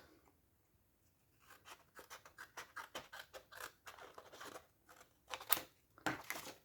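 Paper being cut by hand for an art collage, with faint close snips and rustles in an irregular series, growing a little louder toward the end of a quiet room.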